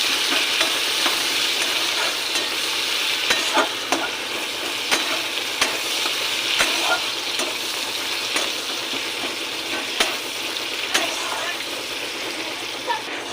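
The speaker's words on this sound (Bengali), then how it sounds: "পেঁয়াজ কুচিটাকে ভালো করে ভেজে নেব" Chopped onions frying in oil after cumin seeds, for a spicy silver carp curry: a steady, close hiss of sizzling with regular stirring clicks and scrapes throughout, no talking.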